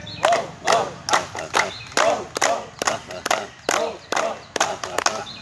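A group claps hands in a steady rhythm, about a dozen sharp clap bursts, each joined by loud chanting voices, as in a laughter exercise session.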